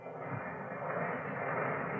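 A ship's engine runs in the engine room as an old-time radio mystery drama effect, a dense, steady droning rumble and hum with no breaks.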